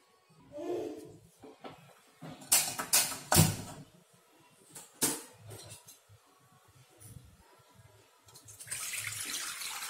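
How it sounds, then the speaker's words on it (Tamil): Water pours and splashes into a pot of lentils for sambar, with several louder gushes in the middle and a steady running stream toward the end. "தண்ணி சேர்த்துக்கலாம்"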